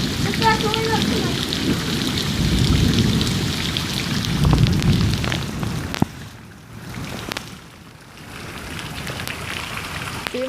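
Heavy rain pours down in a crazy storm, a loud dense hiss that swells and fades, with deep thunder rumbling beneath it and brief quieter lulls near the end.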